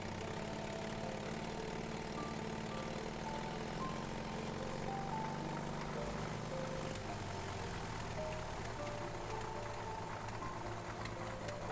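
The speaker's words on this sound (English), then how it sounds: "The diesel engine fired." The diesel engine of a 1956 Caterpillar D6 9U bulldozer runs steadily after starting from its pony motor, a continuous low throbbing drone that stays even throughout.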